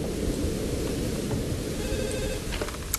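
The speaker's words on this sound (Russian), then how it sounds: "телефончик звонит" A telephone rings in the horror video game Underhell, its bell trilling over steady rain and low rumbling thunder, no voices.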